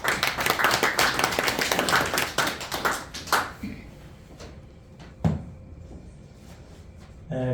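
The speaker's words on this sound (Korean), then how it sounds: "나오실 때 박수로 환영해 주시기 바랍니다." Audience clapping to welcome a speaker at a poetry book launch service, a burst of many hands that thins out after a few seconds into scattered claps and small knocks in a quieter room.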